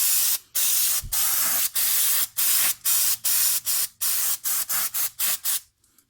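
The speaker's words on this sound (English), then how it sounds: "So I'm going to use some brake cleaner on there." Brake cleaner sprayed from an aerosol can onto the front wheel hub of a 2004 Ford Mustang during a rotor change: a series of loud, close hissing bursts, longer at first, then shorter and quicker, with brief pauses between them.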